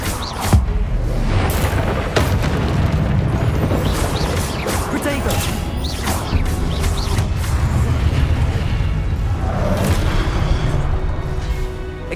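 Confringo spell explosions blast during a Hogwarts Legacy duel: repeated booming bursts and sharp pops crowd a dense, loud battle din, with voices shouting over the combat.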